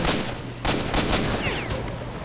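Assault rifle fire in the video game S.T.A.L.K.E.R.: Shadow of Chernobyl, set to single shot: a loud run of booming shots in quick succession that echo together.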